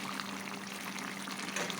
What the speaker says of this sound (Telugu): ఇప్పుడు వాటర్ వేసి చేసుకుందాం